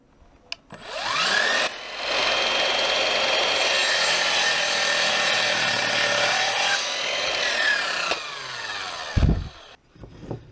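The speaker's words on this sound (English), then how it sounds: "Very accurate cuts with this little 18-volt miter saw." Small 18-volt cordless miter saw spinning up and cutting through scrap wood in one sustained, loud, close whine lasting several seconds, then winding down with a few clunks.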